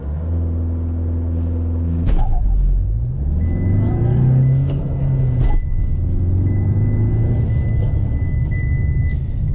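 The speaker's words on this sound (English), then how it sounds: "So revving the motor" A 2021 Tata Safari SUV engine revs up during an off-road test, a deep rumbling drone that swells and rises in pitch, then settles into a steady idle hum.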